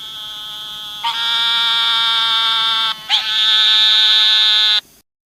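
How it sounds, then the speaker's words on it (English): Narrow-mouthed toad giving a loud, high-pitched, sustained buzzing scream that sounds like a bleating sheep, heard up close as three long continuous calls with brief breaks between them, with no talk. "these little toads have a really high pitch, almost screaming noise"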